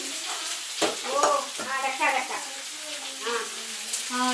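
Sliced onions (savola) sizzle and crackle in a hot pan for an egg roast, with stirring scrapes through a steady fry, while someone talks over the cooking.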